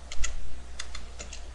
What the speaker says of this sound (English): If we type in fsutil file create new